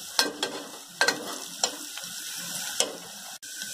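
Onions with asafoetida sautéing in a pan for mutton kulambu, a low steady sizzle broken by several sharp spoon taps and scrapes against the pan.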